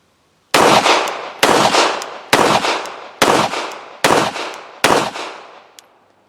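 Six sharp shots from a Girsan MC 14T blowback handgun, a Beretta Model 86 tip-up barrel clone, crack out at an even pace about a second apart, each loud report followed by a short fading echo.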